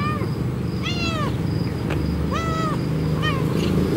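A stray cat that was abandoned meows several times in a row, with clear rising and falling calls heard close by over steady background noise.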